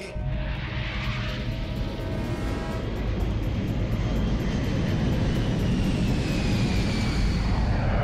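A patrol aircraft taking off and flying away, a steady loud engine roar with broadband rushing noise that holds constant throughout.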